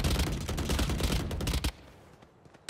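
Rapid automatic gunfire rattles in a Valorant match, a dense burst of sharp repeated shots lasting over a second and a half, then a near-quiet gap and one last shot.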